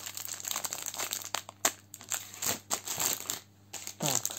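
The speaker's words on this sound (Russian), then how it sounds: "Так, одну я вскрила упаковочку." Plastic packaging of Abifarm M95 three-layer medical masks crinkles and rustles up close in irregular bursts as it is handled and torn open, with no one talking.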